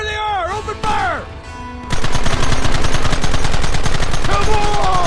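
Rapid, loud gunfire erupts in a Red Dead Redemption shootout after a brief shouted voice, dense overlapping shots continuing steadily to the end.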